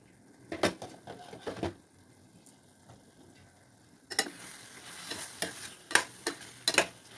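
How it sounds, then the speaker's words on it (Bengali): Masala fries in a pan and is stirred with a spoon. Soft scraping strokes and faint sizzling come in two bursts with a quiet pause between them. "মাঝে মাঝেই মশলাটাকে ভালো করে চালাতে হবে।"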